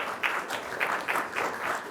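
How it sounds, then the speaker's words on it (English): Applause from a faculty awards ceremony audience honoring the IT department, heard as a short burst of clapping that swells in several waves, fairly close and steady throughout. "We should really applaud the IT department."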